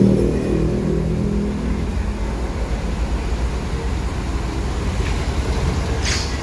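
A Batu Mukti Putra big-top intercity bus pulls away from a busy ticket-office terminal bound for Jabodetabek, its deep diesel engine rumbling steadily and close throughout, with a brief hiss near the end.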